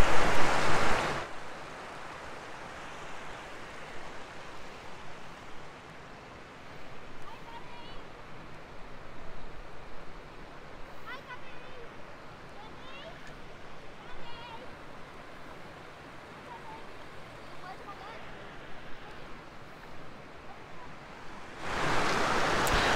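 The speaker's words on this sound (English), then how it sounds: "So I'm just here on the rocks with this beautiful stretch of water" A stream pours over rocks at Otter Pool on Raiders Road in Galloway Forest, a steady broadband rush that continues throughout, framed by louder bursts at the start and end.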